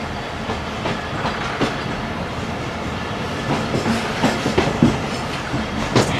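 A Pakistan Railways train rolls along the tracks at low speed, heard from inside the guard cabin as a loud, continuous rumble with recurring clickety-clack wheel beats that grow stronger toward the end.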